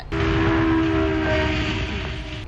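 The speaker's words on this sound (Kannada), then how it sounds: "ಅಲ್ಲಿ ಟ್ರೈನ್ ಬರ್ತಾ ಇದ್ದಂಗೆನೆ" A train passes on a railway line nearby, a loud sustained rumble with a steady tonal horn-like drone running through it, fading slightly at the end.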